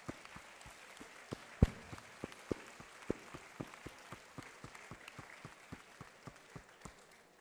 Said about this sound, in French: Donc on les applaudit chaleureusement.